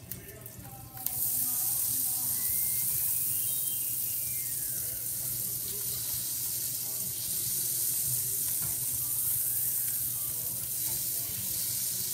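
Oil and butter hiss loudly in a pan for shrimp scampi, a sudden bright sizzle that starts with a clatter and holds steady and close.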